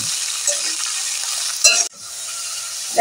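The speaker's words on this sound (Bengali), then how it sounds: "এবারে দিয়ে দেব বিট। বিটটাকে দিয়ে নাড়াচাড়া করে নেব।" Beetroot stirred into a frying pan over a green chilli and ginger paste tempering gives a steady, close sizzle with a brief clatter of stirring partway through, then a softer, even hiss.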